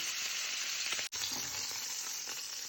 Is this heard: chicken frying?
yes